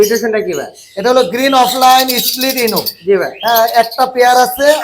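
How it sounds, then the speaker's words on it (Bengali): Pet parrots, sun conures and lories at a bird farm, chirp and squawk in bright bursts mixed closely with ongoing nearby talk. "এখানেও চমৎকার কিছু পাখি আছে"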